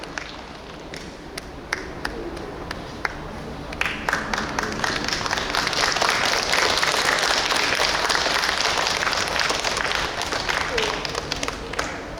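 Audience applause for sijo singers at an outdoor Seoul Nori Madang performance: scattered claps at first, swelling after a few seconds into steady, dense clapping that carries on to the end.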